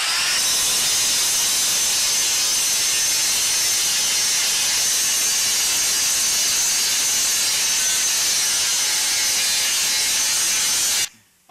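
Steady, harsh power grinding on car body panels during bodywork prep, one continuous loud abrasive whine lasting about eleven seconds before cutting off abruptly.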